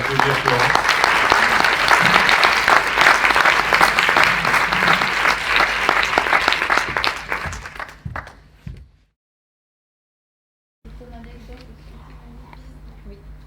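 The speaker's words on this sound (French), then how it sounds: "Je propose d'applaudir Florence." Audience applause for Florence at a French-language professional workshop session, dense and sustained clapping for about eight seconds that fades and cuts to silence, followed by quiet room tone.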